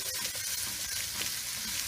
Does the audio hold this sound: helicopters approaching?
no